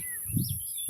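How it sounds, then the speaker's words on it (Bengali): Short, thin bird chirps sound faintly over a low background rumble in a brief moment. "কিচিরমিচির শব্দ করে জানান দিচ্ছে তার বাসস্থান এখানেই"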